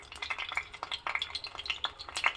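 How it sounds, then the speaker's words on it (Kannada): Quartered whole eggplants dropped one by one into hot oil, a busy crackling sizzle with frequent bubbling pops and splatters, close and fairly loud with no talk. "ಇಡೀ ಬದನೆಕಾಯಿನ ಉಪಯೋಗಿಸ್ತಾ ಇದ್ದೀನಿ ಇದನ್ನು ಹೀಗೆ ಎಣ್ಣೆಯಲ್ಲಿ ಒಂದೊಂದಾಗಿ ಹಾಕ್ತಾಯಿದ್ದೀನಿ"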